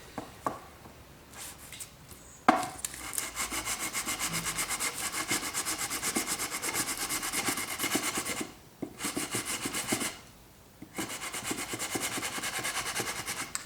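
Sandpaper rubbing a guitar fretboard during a prototype build, a loud steady rasping scrape in long continuous strokes, pausing twice briefly before resuming.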